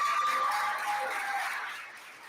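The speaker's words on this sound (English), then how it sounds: "Give him a round of applause." Applause from the audience at the Ethics Bowl national championship, honouring the outgoing leader, as a broad wash of clapping that stays steady and then gradually fades over a couple of seconds.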